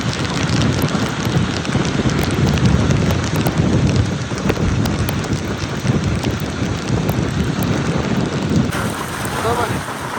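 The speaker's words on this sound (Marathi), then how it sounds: "एवढा पाऊस अरे जा" Heavy rain pours steadily on the old Mumbai–Goa road, a dense, loud, continuous hiss with low rumbling underneath, unbroken for the whole stretch.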